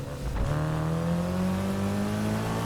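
A race car in Need for Speed Heat drives with a steady engine drone that climbs in pitch as it accelerates, loud and continuous without talk.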